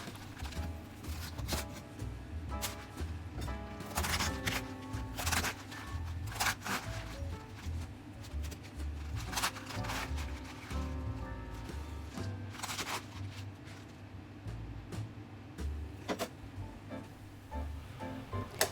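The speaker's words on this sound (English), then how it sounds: "After washing the Chinese cabbage, cut off the core part and chop it roughly." A knife chops Chinese cabbage roughly on a cutting board, with a long run of quick, uneven knocks close by, fairly soft and steady throughout.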